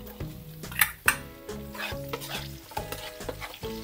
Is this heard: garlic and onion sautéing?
yes